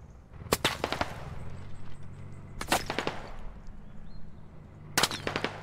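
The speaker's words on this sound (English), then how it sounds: "Shots coming in pretty close." Gunfire landing close in the military shooter game Squad: three separate bursts of sharp, loud cracks a couple of seconds apart, each a quick cluster of shots over a low steady rumble, with no voices.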